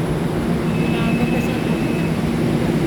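An MRT train runs through the Philippines with a loud, steady rumble and hiss of wheels on rail, heard from close by with a faint high whine riding over the noise.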